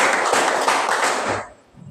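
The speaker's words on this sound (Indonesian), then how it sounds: "Tepuk tangan 2 kali." A school class clapping hands on cue in a classroom, a dense burst of many hands clapping together that fades out near the end.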